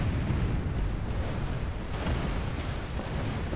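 Ship cannons fire in the naval video game Tempest, heard as a dense, continuous booming rumble that stays loud and close for the whole stretch, with no talking.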